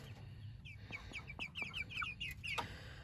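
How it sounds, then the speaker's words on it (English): Chickens cluck and chirp in quick, overlapping calls close by, a busy, steady chatter over a low background rumble. "there's 10 chickens in this little space."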